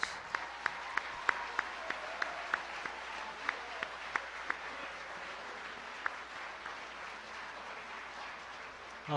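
Audience applause at a Fulbright Korea 60th anniversary gala banquet, a steady, fairly quiet wash of clapping from a large room with sharp individual claps standing out throughout, then a louder burst at the very end.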